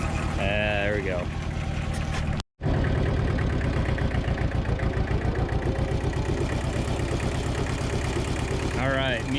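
A tractor engine runs at a steady, rumbling idle on a summer hilltop farm in southeast Nebraska, close and continuous, with a brief dropout partway through and a voice talking over it at the start and end.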